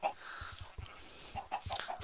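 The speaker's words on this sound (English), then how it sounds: "ooh, there's five chickens." Chickens in a video game give soft, scattered clucks, a handful of short calls spread over a couple of seconds, faint and close under a quiet background.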